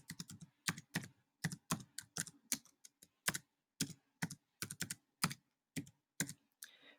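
Someone types an action name on a computer keyboard: close, crisp key clicks in short irregular bursts with brief pauses, alone in a quiet room.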